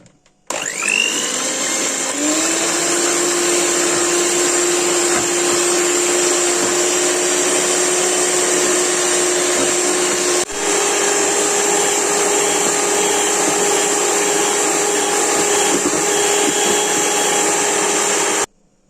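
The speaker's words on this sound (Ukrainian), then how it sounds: "Я їх вбила в ємність для збивання і починаємо їх збивати." An electric hand mixer beats six eggs for a sponge cake, a steady high whining motor drone that starts abruptly, runs continuously with a slight pitch shift midway, and cuts off at the end, close and loud with no talk.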